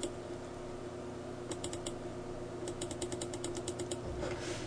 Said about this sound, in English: I'm going to fine tune by clicking the arrow keys